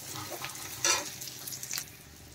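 Onions frying in a pan, stirred with a utensil: a steady low sizzle with a few brief scraping bursts, close and moderately quiet, no voices.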